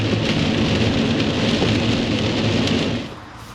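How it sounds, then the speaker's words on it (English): Rain falls outside in a dense, steady wash with a low rumbling undertone, loud and close, easing off sharply near the end with no voices. "there is just a little bit of rain coming down outside right now"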